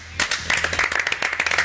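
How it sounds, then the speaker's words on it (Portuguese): Studio crew clapping on a Brazilian sports talk show, a short burst of several pairs of hands with uneven sharp claps, close and moderately loud, no talking over it. "palmas para a nossa produção"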